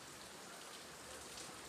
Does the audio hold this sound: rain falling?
yes